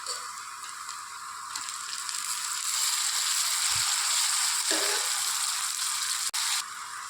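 Onions sizzle steadily in a pan as chopped tomato goes in, a continuous hiss that swells and stays loud, with one soft thud partway through.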